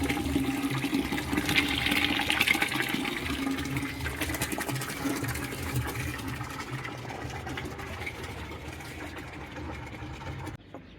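Hot water pours fast from a water heater in a home, a steady loud gushing rush with a low machine hum beneath that fades off at the end.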